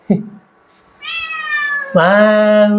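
A hungry cat in a mountain home gives two clear, drawn-out meows close by, the second louder and longer, after a brief short sound at the start.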